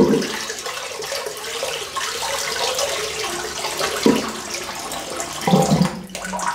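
Hot tap water pours steadily over a razor blade, a loud, continuous rushing splash that runs the whole time with small shifts in the flow and no voices.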